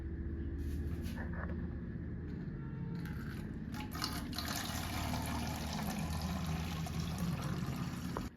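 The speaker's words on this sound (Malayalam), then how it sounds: "ഇനി ഇതേപോലത്തെ ഒരു ബോട്ടിലേക്ക് ഇതിൻ്റെ വെള്ളം മാത്രം ഒന്ന് ഒഴിച്ചു കൊടുക്കാം" Strained water from a soaked-spinach organic plant fertilizer is poured into a bottle, a soft steady trickle over a low continuous hum, with a few brief clicks and handling noises.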